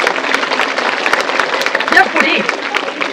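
Audience applause in a lecture hall during a Tamil motivational talk, a steady wash of clapping at close range with a voice speaking over it.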